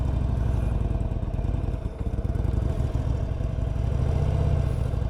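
A 2021 Harley-Davidson Sportster 1200 Forty-Eight with its stock exhaust runs steadily, a smooth, fairly quiet V-twin rumble with rhythmic low pulsing that holds throughout and swells slightly near the end.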